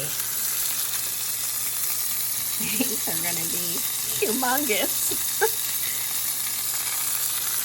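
Bacon breakfast roll ups fry in a pan with a continuous crackling sizzle, steady and close, while a person speaks briefly over it.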